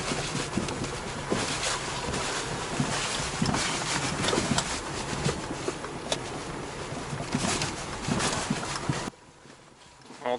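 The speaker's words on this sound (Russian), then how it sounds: "Вот так работает штатная подвеска. Не только Весты Кросс, но и Весты. То есть у нее бахают стойки." Repeated dull knocks from the stock suspension struts of a Lada Vesta over a steady rumble of road and wind noise while driving; the knocking is irregular and continuous, and the rumble drops off near the end.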